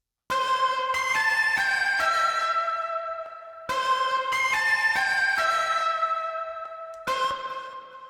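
A bright synth plays a sustained chord phrase twice, each swell trailing into washy reverb and repeating tape-style echoes that fade between notes.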